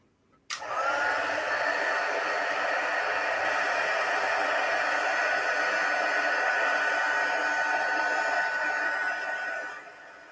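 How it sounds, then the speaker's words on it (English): An electric heat tool switches on abruptly and blows a steady, loud, airy whoosh for about ten seconds while drying stamped ink on a craft treat box, then tails off at the end. "We're going to heat set."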